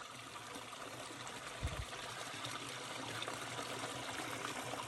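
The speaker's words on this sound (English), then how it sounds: "Ah, the sound of water." Water trickles at a desert spring in Death Valley, California, a steady soft hiss of running water with a faint thump partway through and no voices.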